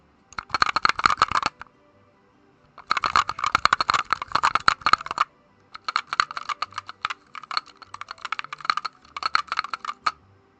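Homemade mechanical keypad clicking in quick bursts of rapid keystrokes with short pauses between them, close and crisp, with no voices.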